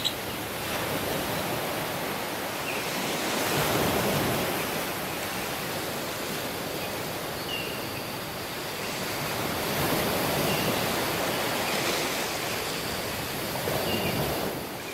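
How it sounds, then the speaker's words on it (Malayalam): Rough sea surf at Varkala beach in Kerala crashes onto and surges over rocks, a continuous broad roar that swells louder around two breaking waves, with no voices. "തിര നല്ല രീതിയിൽ അടിച്ചു പൊങ്ങി ഈ കല്ലിൻ്റെ മുകളിലോട്ട് കയറി വരുന്നുണ്ട്"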